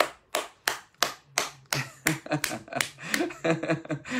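A small group claps by hand, at first in slow, evenly spaced claps and then in faster, overlapping ones, close and fairly loud.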